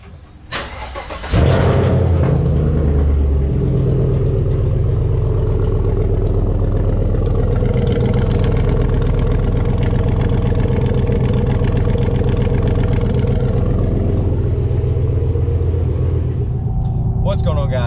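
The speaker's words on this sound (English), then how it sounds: "How about let's start this off with a nice cold start." A car engine on a cold morning cranks briefly, fires up loudly, then settles into a steady, deep idle close by, continuing for the rest of the clip while someone talks.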